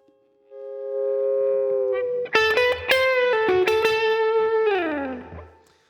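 Slow blues lick on electric guitar: a long swelled note held, then a few bent and picked notes ringing with a clean-edged overdriven tone, ending in a downward bend that fades out, close and alone.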